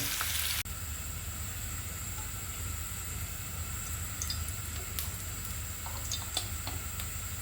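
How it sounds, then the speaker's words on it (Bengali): Drumsticks sizzle steadily in hot oil in a pan, close and even, with a few faint clinks and no speech. "আমার ডাটাগুলো কিন্তু ভাজা হয়ে গিয়েছে"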